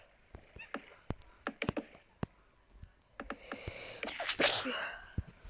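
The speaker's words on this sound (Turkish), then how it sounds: "Kusura bakmayın hapşurdum" A single loud sneeze bursts out near the end, preceded by scattered clicks and taps close by.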